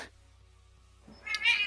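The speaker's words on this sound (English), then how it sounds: "I hear a cat." A pet cat lets out a short, loud, strained meowing scream, a brief wavering cry near the end after quiet with a low steady hum beneath.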